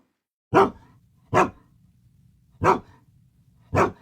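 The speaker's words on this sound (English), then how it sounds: "Sound 1. A dog." A dog barks four times in evenly spaced single barks, fairly close and clear, with quiet background between them.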